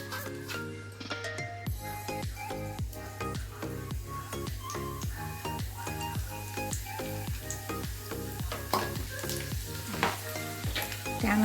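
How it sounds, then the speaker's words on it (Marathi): Cumin and garlic sizzle steadily and loudly in two ladles of hot oil for Maharashtrian besan pithla, a dense continuous crackle with frequent small pops and no voices. "2 पळी तेल टाकलं आहे, त्यात घालूया आता आपण जिरं आणि लसूण."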